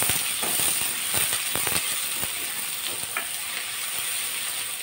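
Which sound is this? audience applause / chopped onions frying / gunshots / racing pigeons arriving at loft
chopped onions frying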